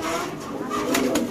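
A pair of Cappuccino breed pigeons coo softly and steadily, a low, close, murmuring call.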